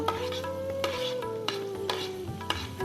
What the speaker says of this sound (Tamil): ரெண்டு தக்காளி இதை நல்லா வதக்கிக்கோங்க